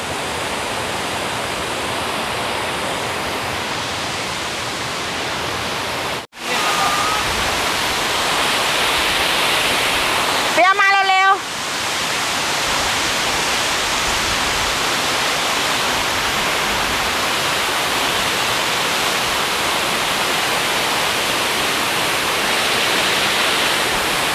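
Sarika Waterfall in Nakhon Nayok, Thailand, in the rainy season: a loud, steady broadband roar of falling water, continuous throughout, briefly interrupted by a short break and a muffled handling noise midway.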